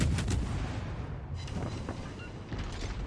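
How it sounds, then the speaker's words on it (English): Naval gunfire from a Fubuki destroyer's turrets in World of Warships: Legends, a dense run of booming shots with rolling battle noise filling the whole stretch, steady and fairly loud. "we do get our turrets on him eventually, and we start firing away"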